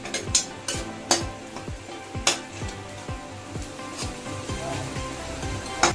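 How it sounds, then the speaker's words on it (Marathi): Onion sautéing in a pan for a spicy Maharashtrian crab curry, a continuous close sizzle broken by a rapid series of sharp scraping and clinking strokes from a spatula against the pan, with no voices. "कांदा चांगला परतून घ्यायचा आहे"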